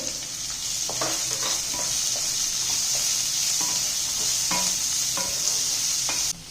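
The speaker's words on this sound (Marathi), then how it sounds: "आलं लसूण पेस्ट व्यवस्थित भाजल्यानंतर या ठिकाणी कांदा भाजून घ्यायचा आहे आपल्याला" Onion frying in a pan until golden makes a bright, steady sizzle, with repeated scraping stirs and soft knocks throughout before it cuts off abruptly at the end.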